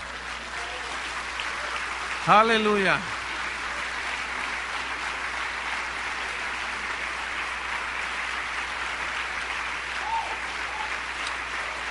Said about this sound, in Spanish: Denle el aplauso más fuerte.